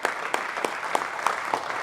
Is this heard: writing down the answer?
no